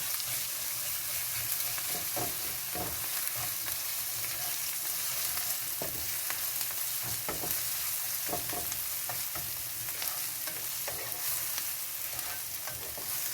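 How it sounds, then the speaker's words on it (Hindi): Steady sizzling from a hot pan with ginger-garlic paste frying, punctuated by occasional scraping stirs, continuous and fairly close, with no talking. "हम 3 से 4 मिनट अदरक और लहसुन के पेस्ट को फ्राई करेंगे"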